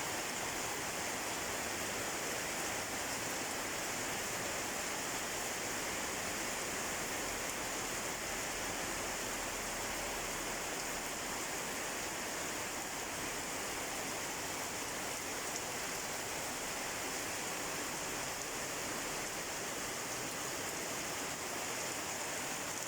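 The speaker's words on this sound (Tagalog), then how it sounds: "Ngayon, papunta pa yung ulan rito." Steady rain hisses continuously, a dense even wash of falling water that stays constant throughout, with no voices.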